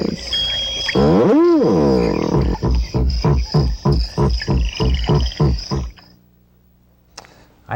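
A frog croaks loudly and up close in a fast, regular run of about a dozen deep, throaty pulses, with one swooping call before them, and then the croaking stops abruptly.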